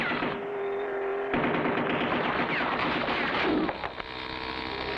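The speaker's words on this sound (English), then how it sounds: "they're firing on us from the gun turret" Rapid cartoon gunfire from a gun turret, sustained bursts of loud, dense shots along a rocky road, continuous throughout with brief sharper cracks near the end.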